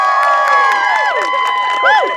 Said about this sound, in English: you better clap louder